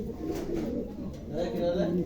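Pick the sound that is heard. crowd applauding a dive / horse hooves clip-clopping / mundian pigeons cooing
mundian pigeons cooing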